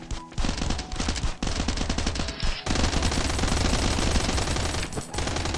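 Rapid automatic gunfire in a video game, long dense bursts of shots broken by short pauses, loud and close throughout.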